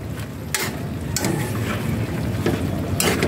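Squash and mixed vegetables are stirred in a pan with little broth, giving close scraping and clattering strokes at irregular intervals over a low, steady sizzle.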